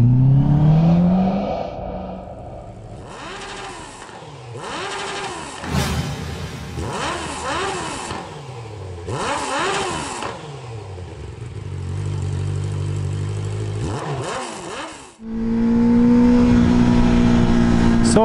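A motorcycle engine roars and revs hard beneath a structure, its sound echoing loudly. Repeated rising and falling revs run throughout, loud and close, with a brief dip near the end before the engine surges again.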